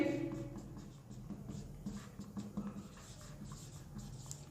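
Chalk or marker scratches across a classroom board during a physics lesson, making quiet, scratchy strokes in short bursts with brief pauses between them.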